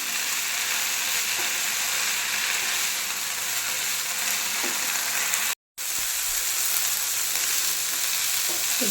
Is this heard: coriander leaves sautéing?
yes